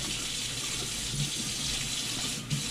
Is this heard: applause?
no